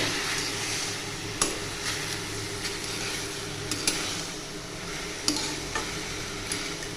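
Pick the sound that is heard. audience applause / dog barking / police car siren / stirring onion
stirring onion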